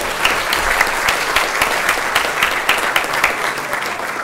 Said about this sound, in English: I'll give him a round of applause for him.